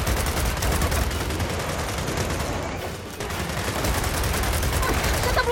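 Sustained, dense gunfire roars through a firefight in the video game Gears of War 4, a loud continuous barrage with only a brief dip midway.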